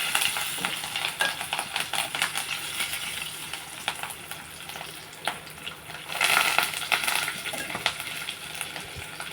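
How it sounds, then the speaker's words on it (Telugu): Fish fry in hot oil with curry leaves and green chillies, a bright continuous sizzle close by, punctuated by clinks and scrapes of a utensil turning the pieces in the pan. "ఇదిగోండి చేపలు ఫ్రై చేశాను"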